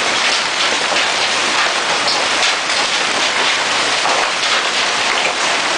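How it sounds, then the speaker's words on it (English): Golf-ball-sized hail pounds steadily on the ground and rooftops during a storm, a dense, unbroken roar with no break, loud and close. "Now that is a hailstorm."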